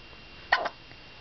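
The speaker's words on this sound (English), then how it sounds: "With the hiccups." A small child hiccups once in a quiet room, a short sharp burst followed by a brief softer catch, close and alone without talk.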